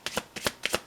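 A deck of tarot cards is shuffled in three quick, crisp riffling bursts, close and fairly soft, with no talking.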